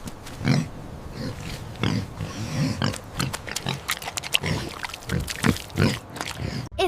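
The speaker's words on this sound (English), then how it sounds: "It's a pig." A pig grunts and oinks in a rapid, irregular series of short snorting bursts, close and fairly loud, with brief pauses between calls.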